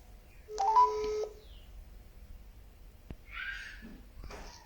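Several electronic telephone keypad tones beep in a short quick burst near the start, followed by quieter faint clicks and background noise.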